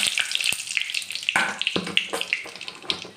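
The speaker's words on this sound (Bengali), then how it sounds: "এখানে আমি সাদা জিরা দিলাম ফোড়ন, দুটো তেজপাতা দিলাম," Cumin seeds and bay leaves spluttering in hot oil, close crackling sizzle with irregular sharp pops and hissing bursts.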